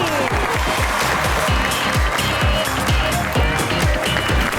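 Studio audience applauding to welcome guest Syed Ali Musa Gilani onto a talk show set: a dense, sustained wash of clapping with steady low thumps running throughout, loud and close, with no talk over it.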